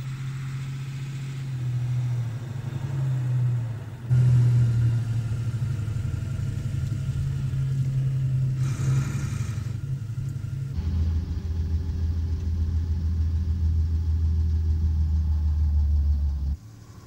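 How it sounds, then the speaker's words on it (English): A WW2 German Ford lorry engine rumbles as the truck drives up and pulls a specialised trailer, a low steady droning hum that shifts pitch midway and keeps running before cutting off. "A second Forn lorry drives up to park alongside the first."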